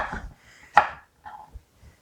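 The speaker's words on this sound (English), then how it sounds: "So again, I'm just roughly chopping this." A knife roughly chops vegetables for Mexican salsa verde on a cutting board, giving a few sharp, separate chops up close and quiet, with no voice.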